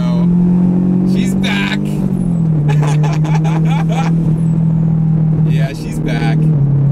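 A turbocharged Honda S2000 pulls onto the highway, its engine a loud, steady droning hum from inside the cabin that shifts pitch slightly, while a voice talks over it.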